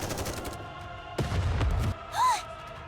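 Gunshot from the Nikke game story: a short, forceful blast with a low rumbling body, followed by a rising-falling whistling tone, heard alone without talk.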